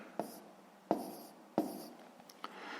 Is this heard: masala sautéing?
no